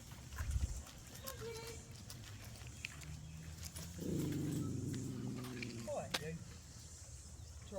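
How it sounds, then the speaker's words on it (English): A dog gives a low, rumbling growl midway through, playful rather than fierce, against quiet outdoor background noise. "That's his happy growl, that's the only thing he does."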